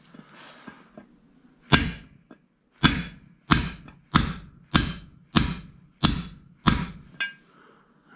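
A bigger hammer strikes a socket to knock the bushing out of a Ford C6 transmission extension housing, eight loud, ringing metallic blows at an even rhythm of roughly one every 0.7 seconds, close and with no talk.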